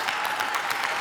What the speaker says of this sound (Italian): glielo vogliamo fare un grande applauso a Stefano De Martino!